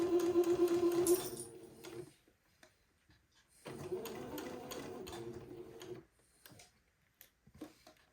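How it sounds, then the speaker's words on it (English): Stitching along a smocked daygown, a sewing machine runs in two steady, fairly quiet bursts of rapid mechanical whirring, separated by a pause, with a few soft clicks near the end. "I'm going to sew as close as possible to where the smocking stops."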